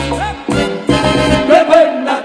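Live music from an artist's newest recorded album plays loudly at a festive gathering in Chichicastenango, Quiché, a dense band sound with melodic lines that is full and close throughout the short stretch.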